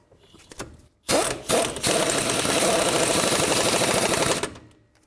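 An impact wrench tightens the bottom bolt on a shock absorber mount in a burst of rapid, loud rattling hammering lasting about three seconds, preceded by a couple of short blips and with no talk.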